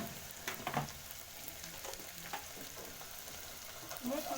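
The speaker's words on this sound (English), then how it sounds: "You stir that up very well because we don't want lumps of ginger." Ginger paste is stirred and fried in a pan for skuma kale, producing a quiet, soft sizzle with occasional scrapes and clinks from the spoon and no voices.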